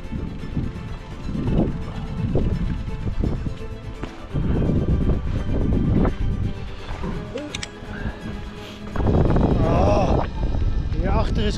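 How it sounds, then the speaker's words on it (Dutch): Headwind buffets a cyclist riding on a wet, drizzly stretch beside the Wadden Sea in the northern Netherlands, a loud, continuous low rumble pressing on the microphone throughout, surging near the end, with a voice briefly audible beneath it. "en dit laatste stuk heb ik wind tegen"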